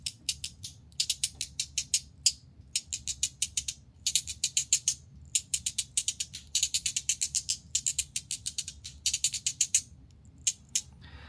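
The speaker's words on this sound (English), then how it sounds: "I'll just kind of show you what the Buckyball only sounds like here." A Chenyu Syntony Buckyball fidget slider, run along its magnet alone without the balls and springs, gives rapid, close, sharp ratcheting clicks in quick bursts, repeated steadily with brief gaps and no talking.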